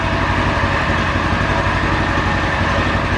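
A UTV engine idles with its drive belt not turning and the drive axle raised on jack stands, running as a steady, dense mechanical drone close by, with no voices.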